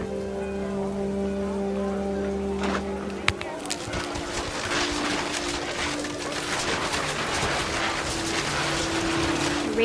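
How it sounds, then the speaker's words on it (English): Heavy rain in the video game What Remains of Edith Finch, a dense continuous patter of drops that starts abruptly after a low steady hum, with faint bird-like calls mixed in. "The rain came down in buckets then"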